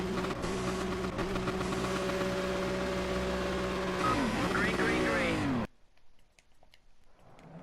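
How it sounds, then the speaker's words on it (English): Several Ginetta GT4 SuperCup race car engines whine at high pitch and shift through gears, a dense loud roar that cuts off abruptly, leaving faint clicks. "And this is what the cars sound like for you"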